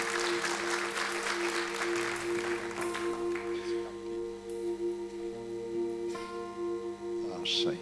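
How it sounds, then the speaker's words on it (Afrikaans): An audience at a live evening performance applauds steadily, the clapping dense and sustained throughout, with a sustained musical tone and chords ringing underneath. "Stefan, so baie welkom, vriend van Vredelus, kom ons gee my lekker hande klap en sê vir hom dankie."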